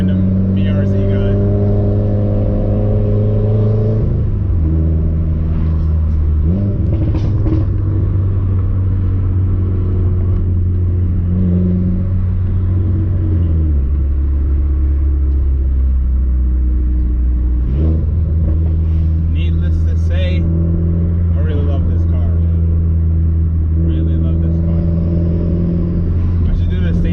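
A car fitted with an ETS Extreme catback exhaust revs and pulls through gears, deep rumbling engine tones rising and dropping in several long sweeps as it drives, loud and close with brief shifts between pulls.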